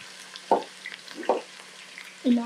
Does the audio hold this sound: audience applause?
no